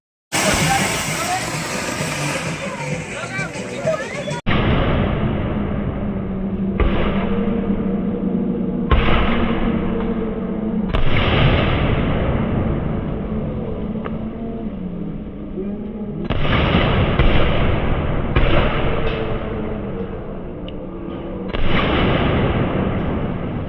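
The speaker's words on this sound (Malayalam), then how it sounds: "ഞങ്ങൾ വളവിൽ പടക്കം പൊട്ടിച്ചു" Loud firecrackers burst in repeated cracking volleys with short gaps between them, and people talk over the noise, at an Eid al-Fitr celebration in Valavu, Kerala.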